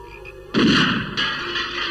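Cartoon gunfire from a spy animation with bird characters: a loud, sudden blast that holds as a broad roar, then a second burst about half a second later, up close and without talk.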